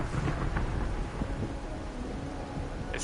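Steady rain with low rumbling thunder in the game Wuthering Waves, a dense continuous wash of storm noise with a faint sharp patter near the end and no talking.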